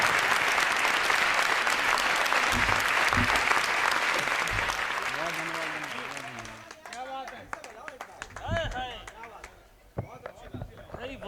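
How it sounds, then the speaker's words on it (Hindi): An audience at a Hindi comic poetry recital bursts into thick applause that gradually thins out after about six seconds, giving way to someone talking and a few scattered claps. "तालियां भैया, जियो।"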